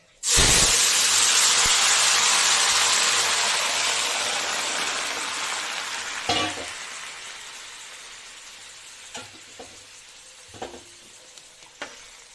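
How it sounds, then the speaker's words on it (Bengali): Vegetable curry broth poured onto hot tempering spices, erupting in a loud, dense sizzle that slowly tapers over about twelve seconds, with a few faint clinks of utensils toward the end. "ফোড়ন দিয়ে এই যে ঝোলটা এই যে ঢেলে দিচ্ছি"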